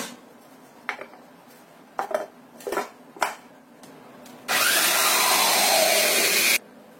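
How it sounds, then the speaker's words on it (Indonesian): A blender whirs steadily while blending coconut milk until smooth, a loud continuous roar lasting about two seconds, preceded by several short clinks of dishes and utensils. "Kemudian kita blender sampai halus."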